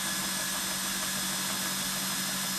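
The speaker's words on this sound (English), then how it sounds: "You can hear the high pitch of the drill." A drill runs under load with a steady, high-pitched whine and dense buzzing vibration, continuous and close for the whole stretch, with no voices.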